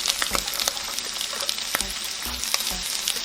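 Garlic and chili paste frying in a pan for Nasi Goreng, a steady close sizzle with soft crackles and occasional stirring scrapes, no talking.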